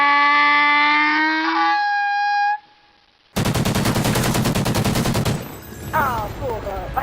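Remington R5 rifle gunfire in a video game comes as a dense, rapid automatic burst after a siren-like tone and a short silence. It is loud and near, with faint game sounds toward the end.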